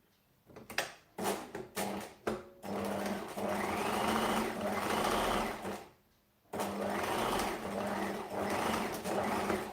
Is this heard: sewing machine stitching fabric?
yes